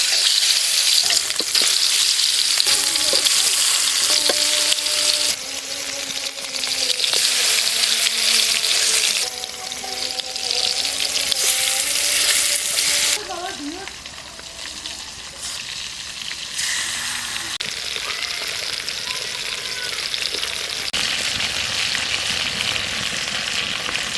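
Fish frying in mustard oil in a kadai gives a loud, steady sizzle and crackle throughout, with clattering and faint water-like hiss mixed in.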